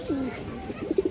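Male Sobji Muslom pigeon with purple feet cooing close by, a drawn-out throaty note followed by a quick series of short rhythmic coos.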